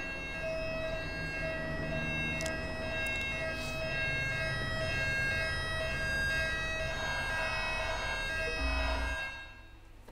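Wailing ambulance siren in the video game GTA 5 (LSPDFR police mod), loud and steady throughout with layered rising tones, cutting off near the end.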